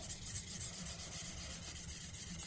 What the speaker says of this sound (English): First work the bevel side, polish out the scratches from the 600 grit.